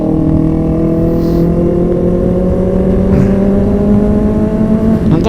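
Motorcycles pass by on a road, their engines droning and shifting pitch, loud and close, with tones rising and falling as they go by.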